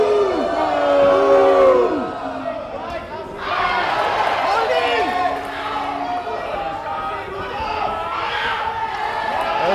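Crowd at a Lion City Fury Championship boxing match, loud sustained cheering and shouting rising and falling, with a commentator talking over it.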